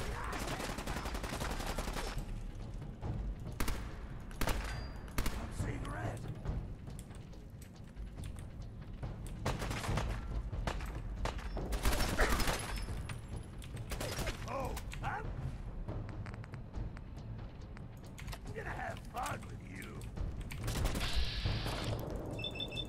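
Gunfire in the video game Fallout 4 comes as repeated sharp bursts and volleys scattered across a long stretch of combat, with mechanical clicks and creaks between shots and little talk.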